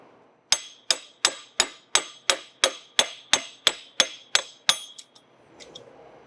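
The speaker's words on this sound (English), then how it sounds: "Placing it in the hole, and we hammer it out." A manual pin driver is hammered to knock out a pin on a downhole cable protector, giving about twelve sharp metallic strikes at a steady pace, close and loud, then a few lighter taps before it stops.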